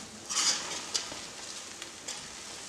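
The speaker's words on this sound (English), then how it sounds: "We're just gonna stir it one more time." Ghanaian jollof rice with goat meat stirred in a pot, giving a brief scraping sizzle burst near the start, then a few faint clinks and a soft steady simmer, no talk.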